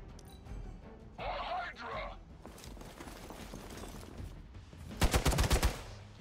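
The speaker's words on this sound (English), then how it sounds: "Oh, they're all shooting at her." Enemy gunfire in Marvel's Midnight Suns arrives as a rapid, loud cluster of shots near the end, following quieter game effects and a brief burst of noise, with a voice talking through the clip.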